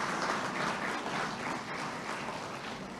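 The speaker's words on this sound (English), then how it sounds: "Please join me once again in giving them a resounding round of applause." Audience applause at a 2018 Independence investiture ceremony, a dense, steady wash of many hands clapping that fills the whole stretch at an even level without a break.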